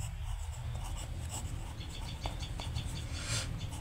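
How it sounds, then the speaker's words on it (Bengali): Marker or chalk writing on a classroom board during a fourth-grade geometry lesson, a steady scratchy stroking that runs continuously and close over a low background hum, with no speech. "তাহলে আমরা এখানে নিচে লিখব চিত্র"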